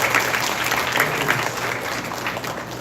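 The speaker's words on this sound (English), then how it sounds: "I think we all should clap to these students" A school audience at a mock parliament claps for students, a dense steady round of applause heard close and fairly loud throughout.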